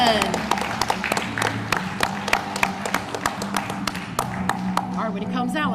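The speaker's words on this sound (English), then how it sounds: "When he comes out, let's keep clapping." A graduation ceremony audience claps steadily for a salutatorian, a dense patter of hands with sharp individual claps standing out and voices mixed in underneath.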